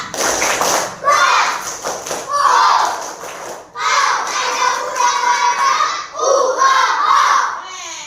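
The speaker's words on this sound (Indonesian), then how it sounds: "Sekali lagi tepuk pramuka" Children in scout uniforms chant and clap in unison during a classroom lesson, a loud group of young voices in rhythmic bursts with a short pause in the middle.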